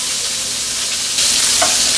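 Beef tongue browning in a frying pan sizzles steadily while it is stirred, a loud close hiss that swells as the pieces are moved, with a small scrape near the end.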